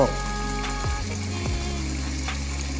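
A pot of curry bubbling over a burner as the heat is turned up, with a steady close sizzling, watery hiss and a low rumble running throughout, no voices.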